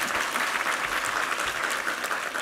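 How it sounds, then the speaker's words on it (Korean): A congregation at a Sunday church service breaks into applause, a continuous, even wash of many hands clapping that fills the hall, moderately distant and with no talking over it. "우리 하나님께 감사와 영광의 박수 올려드리겠습니다."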